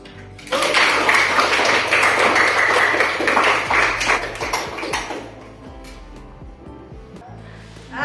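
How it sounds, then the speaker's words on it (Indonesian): A class of students applauding together, a loud dense burst of clapping that swells quickly, holds for several seconds, then thins into scattered claps with light murmuring underneath. "Aplaus untuk kita."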